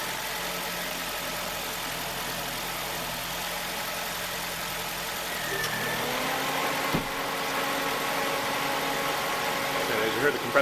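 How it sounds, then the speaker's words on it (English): A Honda Fit idles steadily, and partway through its air-conditioning compressor engages, shifting the engine's tone to a slightly heavier, lower hum that continues to the end. "As you heard, the compressor just kicked on."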